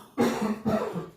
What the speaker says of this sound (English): and he's still coughing.